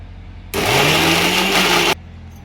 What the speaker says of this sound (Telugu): ఇంకోటండి మనం మిక్సీ పట్టుకుందాం